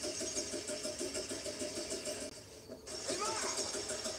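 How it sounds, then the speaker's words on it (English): Car engine in the video game The Quarry cranking and failing to start, a rough rhythmic churning that cuts out briefly and then resumes over game ambience. "I think there's something wrong with the engine, Mr. H."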